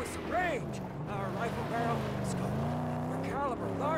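A V6 car engine in the Mad Max video game drives at speed with a steady sustained roar and shifting pitch, while a voice talks over it throughout.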